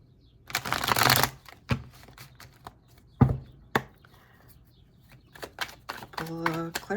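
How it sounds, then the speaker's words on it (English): A Rider-Waite tarot deck being shuffled by hand, a dense riffling burst followed by scattered card taps and snaps, close and fairly quiet, with brief speech near the end. "Let's do a shuffle."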